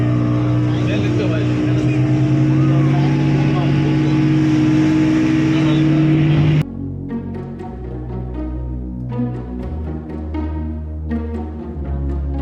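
A boat engine roars loud and steady with a deep hum while pulling away from Malpe beach toward St Mary's Island in Karnataka, then the drone drops to a quieter, uneven rumble.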